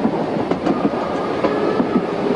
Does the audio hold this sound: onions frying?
no